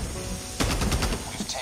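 A DR-H (SCAR) rifle fires a rapid automatic burst of about half a second during a Domination match in COD Mobile, rising out of steady game background noise, fairly loud and close.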